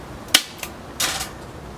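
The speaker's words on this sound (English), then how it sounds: "Go ahead and finish stapling the bottom." Staples driven one at a time into a board while remounting a staghorn fern, three sharp snapping clicks spaced unevenly over a couple of seconds, close and fairly crisp against a quiet room.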